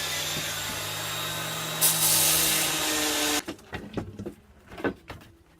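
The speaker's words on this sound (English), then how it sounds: "Got some fairly aggressive sandpaper on the orbital sander, and it's going pretty slowly" An orbital sander fitted with coarse, aggressive sandpaper grinds steadily for about three seconds during a DIY arcade cabinet build, a loud continuous whir with a motor hum, then cuts out and gives way to scattered knocks and handling clatter.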